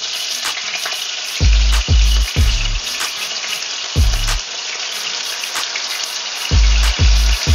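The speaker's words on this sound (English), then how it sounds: "Now we can add the pork belly. Be careful, it's very hot." Pork belly fries in a very hot pan with a loud, constant sizzle and spatter. Deep thumping bursts come in irregular clusters over it, all close and without speech.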